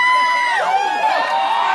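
Pub audience at Logan's Pub in Victoria, BC, cheering and applauding a comedic musician on stage, a short burst of crowd noise with whoops mixed in.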